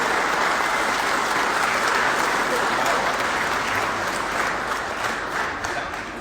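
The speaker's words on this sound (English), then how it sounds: "Big round of applause" Audience applause at a Beat the Streets national celebration of impact, sustained dense clapping from a large crowd that fills the room, loud throughout and easing slightly toward the end.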